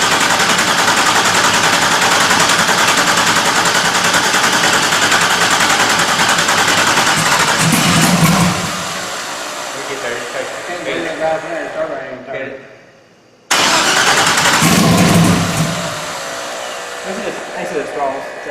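Engine of a rebuilt vehicle cranked over and catching, a loud harsh roaring run that drops off, sputters, cuts out briefly, then roars back, with voices talking over it.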